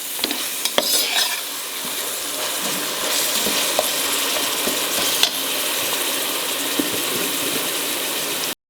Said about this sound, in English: Ginger garlic paste should lose its raw flavor. Fry nicely.